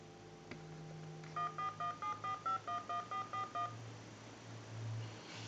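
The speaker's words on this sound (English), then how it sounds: "We're going to go ahead and use a tone dialer" A handheld tone dialer beeps out a quick run of about ten evenly spaced DTMF tones beside a Stromberg Carlson candlestick telephone, clear over a low background hum.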